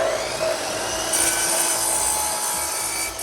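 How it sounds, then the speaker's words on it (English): A power saw with a freshly sharpened blade cuts through wood trim, giving a sustained whining, rasping buzz at close range that runs unbroken for several seconds. "we're gonna make a cut with our newly sharpened blade"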